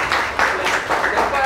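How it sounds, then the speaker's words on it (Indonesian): Applause from a classroom group during a teaching practicum, a steady dense patter of hands that rises and falls slightly over a short stretch, with some voices mixed in. "tepuk tangan"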